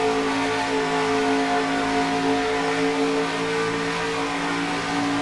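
A race truck engine in NASCAR Racing 2003 drones steadily at high revs, recorded on board the truck as it trails another truck at Ontario, a loud continuous tonal whine with no talk.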